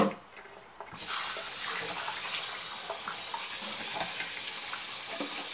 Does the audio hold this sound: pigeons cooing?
no